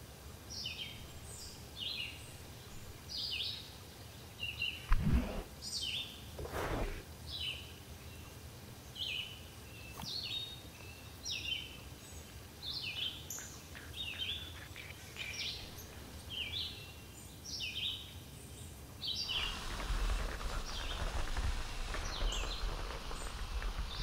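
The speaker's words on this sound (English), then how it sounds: "let me go over here away from the bird sounds" Small birds chirp outdoors in repeated short bright calls throughout, with a couple of nearby thumps partway through and a rising wind-like rumble toward the end.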